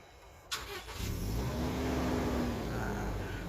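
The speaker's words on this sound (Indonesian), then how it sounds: "Kita injak rem dan tekan start stop engine button di sebelah kanan sini untuk menyalakan mesinnya." A Toyota Innova Venturer petrol engine is started by push button with the brake pressed: a brief starter crank and catch up close, then it settles into a steady, smooth idle.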